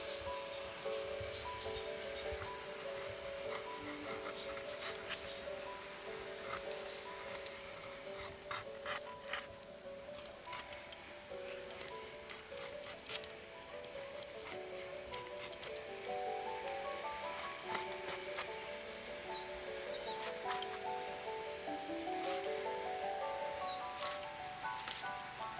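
Pointed gourd (potol) being sliced thin with a knife, a faint, repeated rasping and scraping of blade through firm vegetable with quiet background music.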